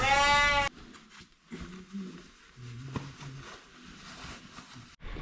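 A Dorper sheep on a farm gives one loud, close bleat at the start, then fainter farmyard shuffling and low sounds, with a brief second call near the end.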